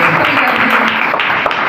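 Audience clapping at a church Bible competition and Sunday class prize-giving ceremony, a dense, loud burst of applause lasting under two seconds.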